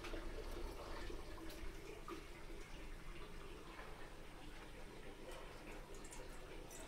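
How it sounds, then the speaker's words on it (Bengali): Water poured into the base of an idli steamer, a steady, broad rushing flow that continues without a break, heard fairly faint with no voices. "তো এটাকে আমি আগে জল দিয়ে দেবো।"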